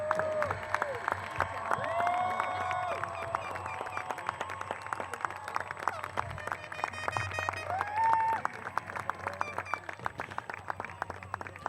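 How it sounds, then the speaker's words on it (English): An audience at a 2025 school district graduation applauds the graduating class, with steady clapping and scattered cheers throughout and a few voices over the top. "How about another round of applause for the class of 2025?"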